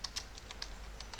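Computer keyboard keys tapped while writing a C++ program, about eight distinct quiet clicks at an irregular pace over a low hum.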